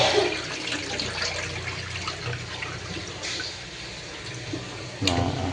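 Rice is washed under running tap water, a steady close splashing and trickling with a brief louder splash near the end, while someone talks over it.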